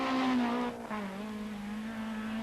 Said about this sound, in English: As through goes the Renault of Alain and Sylvie Auret.